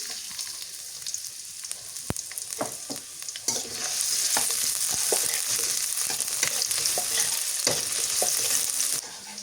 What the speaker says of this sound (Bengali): সরিষার তেল দিয়ে দিই পেঁয়াজ কুচি দিয়ে দিই